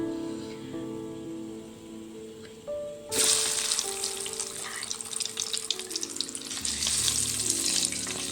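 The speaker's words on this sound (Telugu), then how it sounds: "స్టవ్ మీద ప్యాన్ పెట్టుకుని ఆయిల్ వేసానండి. దాంట్లో కొంచెం పసుపు వేసాను, ఎందుకంటే ఎగ్స్ ఫ్రై చేసుకోవడానికి." Eggs hit hot oil seasoned with turmeric in a pan on the stove, starting a loud, crackling sizzle after a few quiet seconds and continuing steadily with sharp pops.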